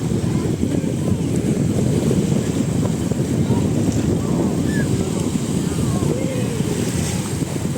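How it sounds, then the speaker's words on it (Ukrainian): Sea waves breaking at the shore in Shëngjin, Albania, a steady broad wash of surf mixed with wind buffeting the microphone, continuous and fairly close, with no clear voices. "знімаю для вас звуки води, релаксу"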